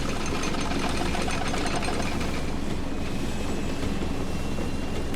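Bucket Destroyer machine in The Stanley Parable running alone, a steady loud mechanical rumble with a rapid repetitive knocking chatter that holds through the whole stretch.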